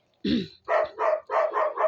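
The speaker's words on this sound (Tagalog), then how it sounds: "Ingay ng aso namin. Mga tahol." A dog barks about five times in a steady run of loud, close woofs, opening with a short growly yelp.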